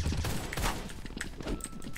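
Destroyer Gold gunfire in the zombie mode of the shooter game Truy Kích comes as a dense, continuous burst of rapid shots with sharp overlapping cracks throughout, loud and unbroken.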